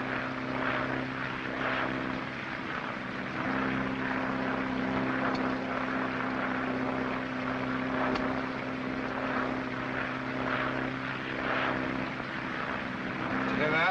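A propeller airplane engine drones steadily in flight in a 1937 film scene, a continuous low, even hum that holds through the whole stretch with no break.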